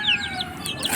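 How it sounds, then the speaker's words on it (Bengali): A pair of Indian silkie chickens give several close, sharp clucks and short squawks in quick irregular bursts over a low background murmur. "এটা হচ্ছে ইন্ডিয়ান সিল্কি, এই যে হচ্ছে সিল্কি এক জোড়া"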